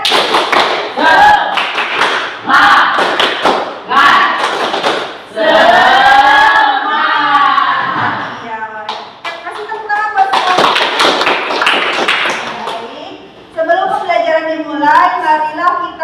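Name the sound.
class doing the 'tepuk semangat' rhythmic clapping chant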